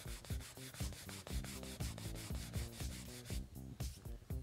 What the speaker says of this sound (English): just buff the surface with a rag here